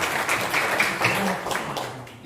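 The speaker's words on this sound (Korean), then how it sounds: "영광의 박수 한번 주시기" A crowd at a mission training graduation and appointment ceremony held in a university memorial hall applauds, a steady wash of many hands clapping together, fairly loud and continuous before tapering slightly at the end.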